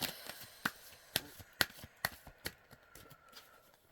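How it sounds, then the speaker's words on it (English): A tarot card deck is shuffled by hand in a quiet room, giving a series of soft, crisp card snaps and riffles at an uneven rhythm, faint and close. "Let's give it a little shuffle."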